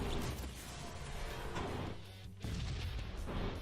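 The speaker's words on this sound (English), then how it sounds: "let's shoot lasers" Laser weapons fire in the Sunrider space-battle video game, a dense, continuous roar of booming blasts and impacts that dips briefly before surging again, with no voices.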